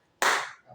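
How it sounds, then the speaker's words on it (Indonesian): A single sharp hand clap from a classroom counting game of multiples, one crisp burst that rings briefly and fades, close and loud against near silence. "Tepuk tangan."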